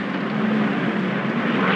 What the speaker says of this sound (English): Hey, look, airplane.